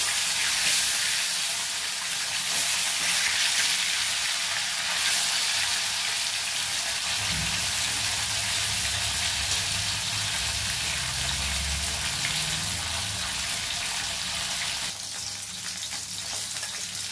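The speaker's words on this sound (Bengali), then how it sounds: "মাছের আরেক পিসটা ভাজা হয়ে গেছে" Loud, continuous sizzle of katla fish pieces frying in oil fills the clip, with a low rumble of movement in the pan midway.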